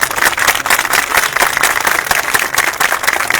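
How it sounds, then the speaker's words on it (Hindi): Loud, dense audience applause for Delhi Police at a street play in Indra Camp, Defence Colony, a steady wash of many hands clapping without pause. "एक बार दिल्ली पुलिस के लिए जोरदार तालियां"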